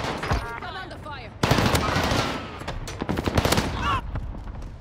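Automatic fire from an XM4 assault rifle in a multiplayer shooter game, rapid bursts of shots that erupt into a dense, loud rattle partway through, with radio chatter and game voices mixed in.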